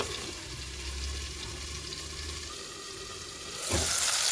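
Fish curry with salt and turmeric sizzles steadily in a covered pan, a continuous close frying hiss that swells louder toward the end.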